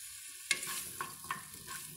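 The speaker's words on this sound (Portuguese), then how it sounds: "Eu vou fritar esse bacon aqui primeiro. Dá uma mexidinha aqui." Bacon frying in a little oil in a pressure-cooker pot, with a sharp scrape of stirring followed by a few lighter clinks over a faint, steady sizzle.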